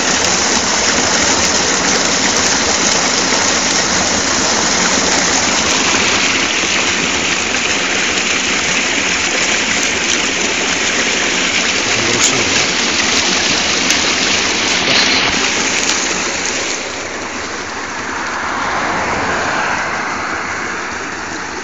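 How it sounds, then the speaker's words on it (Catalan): A river runs steadily past a spot beside a road, its broad rushing wash loud and continuous, easing slightly near the end. "Va en la mateixa direcció que el riu."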